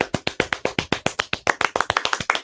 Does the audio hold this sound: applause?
yes